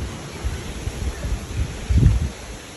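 Wind blows across the microphone outdoors, a low rumbling buffet that swells and dips in gusts, strongest near the end, with no voices.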